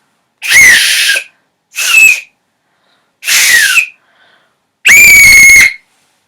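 Four sharp whistle blasts in a row, close and loud, the last one the longest and strongest, with short silent gaps between them.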